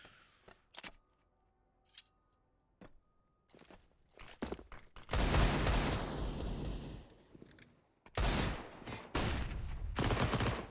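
Gunfire in the video game CS:GO, a match on the Train map, with scattered single shots and footsteps early on, then long loud bursts of automatic fire into smoke that break off and resume near the end.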